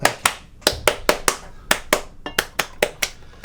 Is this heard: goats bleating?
no